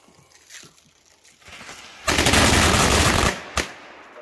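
A couple of sharp pops are followed by a loud, rapid string of Thunder Bomb firecracker blasts lasting over a second, then one final close bang.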